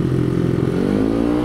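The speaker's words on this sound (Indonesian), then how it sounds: "Suaranya candu. Ini pakai knalpot tembus yang pipa kecil." A 115cc Honda Beat scooter engine with a small-pipe straight-through open exhaust rumbles steadily at close range, loud and raspy, its low throbbing note holding even throughout.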